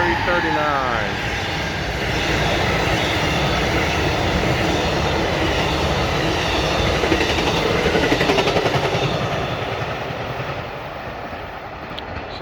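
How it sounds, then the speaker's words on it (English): An Amtrak train climbs a grade and rushes steadily past, a broad sustained roar of engine and wheels that swells and holds close for the whole stretch, with a voice briefly over it. "Got Amtrak flying through here."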